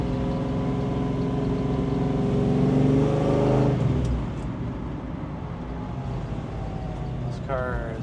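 A 1969 Mustang Mach 1 with a 428 Cobra Jet engine and 4-speed gearbox revs up with a rising drone, then shifts down to a steadier rumble as it drives on, with a voice briefly heard near the end.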